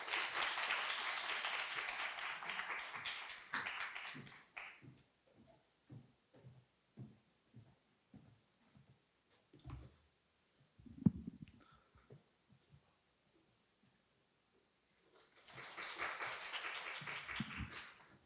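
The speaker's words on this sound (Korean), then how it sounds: "큰 박수 부탁드리겠습니다" An audience at a Korea University alumni event breaks into loud applause, then a stretch of scattered claps and quiet taps, before a second burst of clapping rises near the end.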